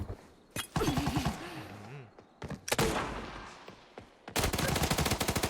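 Bursts of rapid game gunfire crackle in short volleys, with a loud sustained burst at the end, while a voice talks in between.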